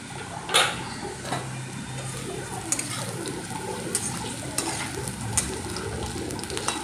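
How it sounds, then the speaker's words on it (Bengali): Potato pieces fry in oil in a pan for a light fish curry, a soft continuous sizzle broken by sharp clicks and scrapes of stirring, heard close and without talk. "আলু কিন্তু আমার প্রায় ভাজা হয়ে গেছে"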